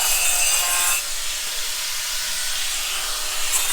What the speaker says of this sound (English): you probably hear a grinder going on